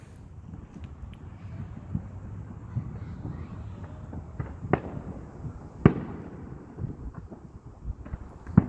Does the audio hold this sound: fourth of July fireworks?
yes